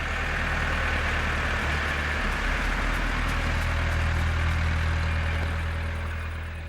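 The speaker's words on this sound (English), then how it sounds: "The noise of the tractors lures the older storks." Tractor engines drone steadily and fairly loud in fields near a village, with a low rumble and constant mechanical noise.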